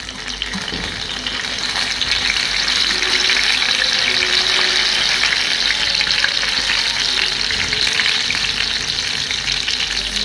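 Mumbar, stuffed intestine, being reheated and fried in a pan of oil gives a loud, continuous sizzle with a stirring texture that swells slightly and holds steady, with no voices.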